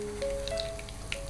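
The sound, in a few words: breadcrumb-coated chicken frying in oil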